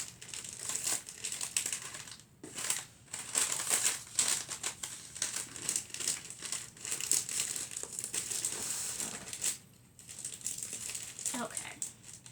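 Wrapping paper being folded into creases for a gift, crisp continuous crinkling and rustling close up with brief pauses, plus sharper crackles as the sheet is pressed.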